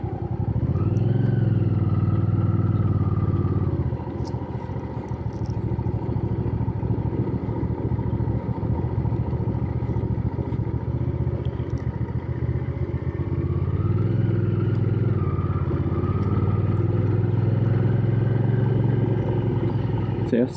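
A Hyosung GV650 Aquila motorcycle rolls along at very low speed, its engine a steady, loud, close drone that dips and rises gently as the throttle is eased, with a rider talking over it.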